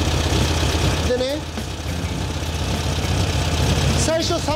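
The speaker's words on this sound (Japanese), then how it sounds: "スタートしたら1100ぐらいあったから、アイドリングが高いんだよね" An air-cooled VW Beetle engine idles fast at about 1100 rpm during carburetor adjustment, a steady mechanical hum under continuous talk in the workshop.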